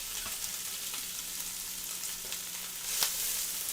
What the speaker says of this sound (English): stir fry them up